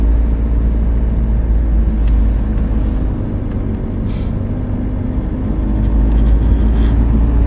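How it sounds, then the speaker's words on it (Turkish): A BMW E60 520d diesel engine at idle, heard from inside the cabin as a steady low rumble with a constant hum and no changes in pitch; no talking. "böyle rolantide dururken hafiften motor sesi geliyor"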